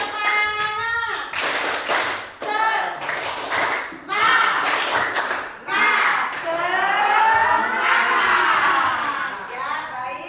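Children in a classroom doing a 'tepuk semangat' spirit clap, with bursts of group clapping in a patterned rhythm mixed with loud chanting and shouting voices, close and lively.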